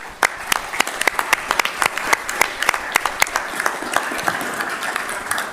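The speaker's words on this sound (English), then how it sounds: "So let's give him a round of applause." Attendees at a state transportation commission meeting applaud a returning member. The applause is modest and fairly close, with distinct individual claps sounding clearly over a softer crowd wash throughout.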